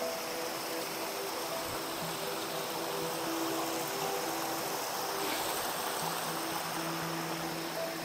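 A river flows beside a riverside campground near the Curug Kembar waterfall at Batu Layang, Bogor, giving a steady, even rush of running water with faint tonal hums underneath.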